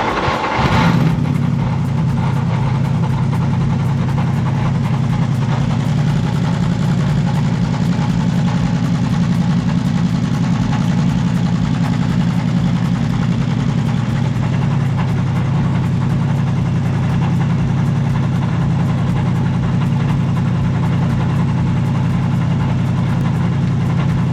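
A Mercedes SLS GT3 AMG race car engine fires up with a sharp catch, then settles into a loud, deep, steady idle that rumbles on for over twenty seconds, close by with no talk.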